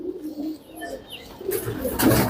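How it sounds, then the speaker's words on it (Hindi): Allahabadi pigeons coo softly in a low, rounded murmur, close by, with a brief brighter rustle near the end that may be wing movement. "सब एक ही खानदान के कबूतर हैं ये।"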